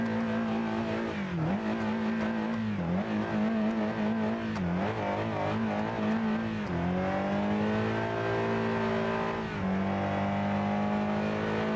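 A 550 HP Honda Civic Type R engine in BeamNG.drive revs high and steady, dipping briefly at each gear shift before climbing again, loud and close.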